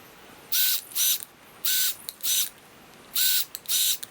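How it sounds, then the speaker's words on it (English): Pilot holes being pre-drilled for screws when fitting band pegs to stall mats in a home garage gym: six short, loud bursts of a drill in three pairs, each lasting about a quarter second, with quiet pauses between. "all we have to do is pre-drill the holes over here for the screws"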